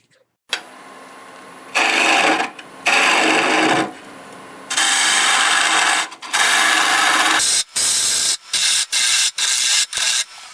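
A bowl gouge cuts maple burl on a wood lathe in loud, hissing, scraping passes, first in long strokes and then in quick short bursts with brief gaps, close to the lathe.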